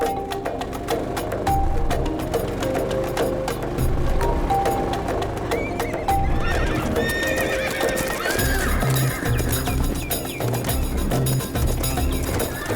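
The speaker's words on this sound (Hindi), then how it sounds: "इतने सारे घोड़े यहाँ कैसे?" Many horses gathered together, with loud repeated neighs and whinnies over a busy clatter of clip-clopping hooves, close and lively throughout, with background music mixed in.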